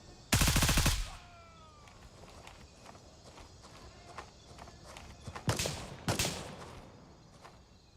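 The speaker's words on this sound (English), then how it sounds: "Definitely shooting at me." Gunfire aimed at the player in a shooter video game: one loud, close burst of rapid shots opens, followed later by two more distinct bursts, with quieter game ambience and faint clicks in between.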